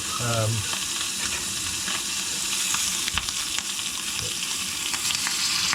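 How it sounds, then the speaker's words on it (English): Steady crackling sizzle of bacon frying in a camping pan, close and continuous, with occasional pops and a brief scrape at the start. "Let that sort of sizzle away. I like my bacon done really crispy actually."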